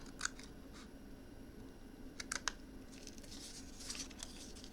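Card being cut with scissors for a small gift box: a few quick, faint snips, one early and a tight cluster in the middle, with soft papery rustles near the end, close and quiet with no talking.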